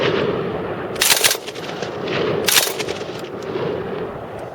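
1914 Hotchkiss heavy machine gun fires two short, sharp bursts about a second apart, loud and close, over a rushing background outdoors.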